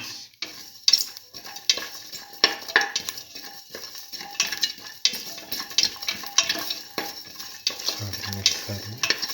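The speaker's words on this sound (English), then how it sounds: "Saute and mix thoroughly" A tomato and split pigeon pea mixture is sautéed in a pan, with rapid scraping stirs and spoon clatter in an uneven rhythm over a soft sizzle, close and alone with no talking.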